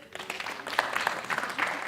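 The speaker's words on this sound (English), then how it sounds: "8th graders, let's give your parents a round of applause." At a school scholar awards event, an audience claps for the parents of eighth graders, moderate applause with some voices mixed in.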